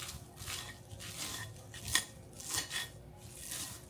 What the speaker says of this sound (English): I'm going to slice it up because I don't like my lettuce and stuff that big